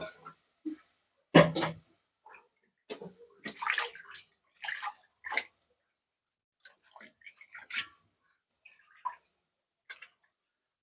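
Raw chicken pieces being rinsed in water in a kitchen while cooking chicken curry: intermittent splashes and sloshes with a louder burst early on, then scattered smaller drips and swishes, close and alone with no talk.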